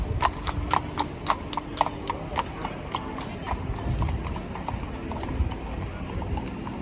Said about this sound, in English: watch both ways for horse carriages in Vienna